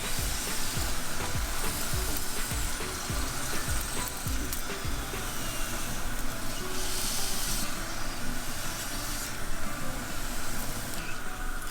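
Methi thepla flatbread frying in oil on a pan, a steady close sizzle with hissing bursts and faint scraping from a spatula, continuous throughout without speech.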